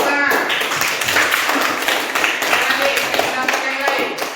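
Classroom applause, a dense burst of clapping from many hands that carries on without a break throughout, close and loud, with some voices mixed in.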